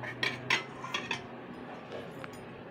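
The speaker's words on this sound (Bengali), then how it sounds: "ঢাকনাটা খুলবো, খুলে দেখবো।" A metal lid lifted off a cooking pot of prawn paturi, with a few sharp clinks and clatters close by at the start, then quieter kitchen background.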